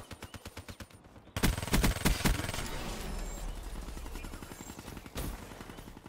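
Vesper submachine gun firing in Black Ops 3 multiplayer, long rapid automatic bursts with a sharp onset, sustained chatter of shots and some sparser fire before and after.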